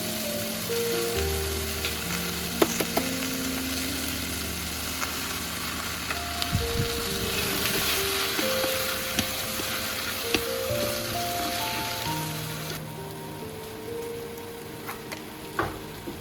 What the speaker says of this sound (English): Sliced the bitter melon and cooked it with 2 eggs.